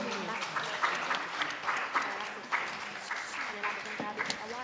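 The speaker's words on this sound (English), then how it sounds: "a round of applause for all the participants" Audience applauding for participants at a primary schools quiz, a steady sustained wash of clapping hands throughout with a few louder peaks, some crowd noise mixed in.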